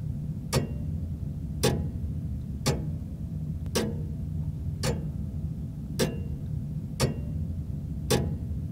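An antique clock ticks in a steady, evenly spaced beat, about one crisp tick per second, close and clear over a low background hum, with no voices.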